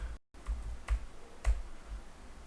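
A few separate keystrokes on a computer keyboard while entering a hex code in Android development software, crisp isolated clicks spaced roughly half a second apart.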